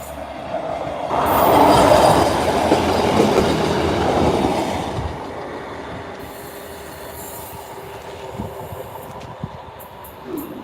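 A train passes through Lincoln with a loud rolling rumble and squealing wheels that swell early and fade after about five seconds, followed by lighter track clatter, no talk.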